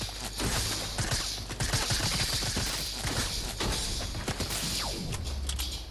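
A dense run of rapid gunshots in the Fortnite video game rattles close and loud, with sharp repeated cracks and thumps filling the whole stretch, and no voice heard over them.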